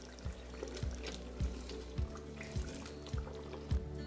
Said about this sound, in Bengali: এবার এটাকে ডাইরেক্টলি আমি ট্রান্সফার করে দেবো মশলার মধ্যে